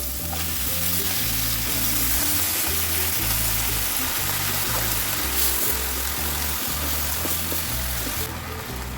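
Malabar spinach hitting a hot frying pan, with a loud, steady sizzle and frying hiss plus stirring scrapes, heard alone throughout.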